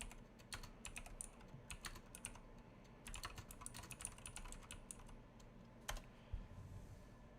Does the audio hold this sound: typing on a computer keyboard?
yes